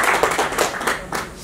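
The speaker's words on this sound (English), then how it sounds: "Big round of applause number 2." Applause from an event audience, a dense patter of many hands clapping at close range, steady and fairly loud throughout with no talk over it.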